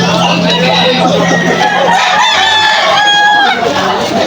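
Loud, busy chorus of chickens clucking and roosters crowing up close at a rainy Malolos pet market, with a murmur of crowd chatter mixed underneath.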